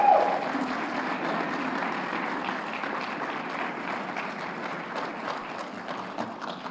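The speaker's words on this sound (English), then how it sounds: "let's give a large applause to the folks from Suprema who prepared the meal" An awards-dinner crowd applauds the caterers who prepared the meal, a broad, even wash of clapping from a large room that holds steady and gradually thins.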